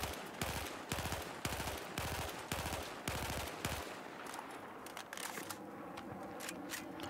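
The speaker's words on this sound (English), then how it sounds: "Now, what happens if we 5 round bursts without compensating for the recoil?" Short bursts of automatic gunfire from a rifle in Battlefield 4, fired in about five quick, evenly spaced volleys of several rounds each, loud and close, then fading into quieter crackling game ambience.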